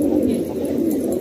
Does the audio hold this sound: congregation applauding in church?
no